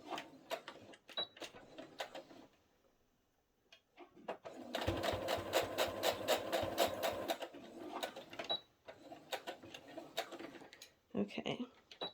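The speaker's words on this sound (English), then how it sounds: "I'm going to put my needle in the center position so I can clearly see where it's going to go, and I'm going to stitch" A sewing machine stitches a partial placket on a garment. A fast, even run of mechanical clatter lasts about three seconds, with quieter clicks and handling noises before and after, and a voice speaks at the edges.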